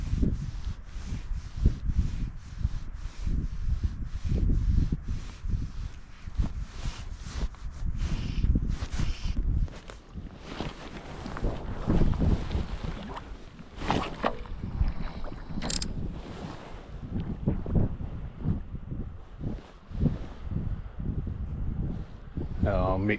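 River water rushing steadily beside a salmon fisherman on the River Tweed in late February, with gusting wind buffeting the microphone throughout, loud and continuous with no voices.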